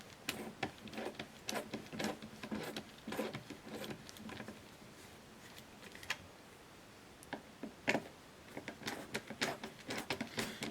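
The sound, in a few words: removing Phillips screws from speaker driver bezel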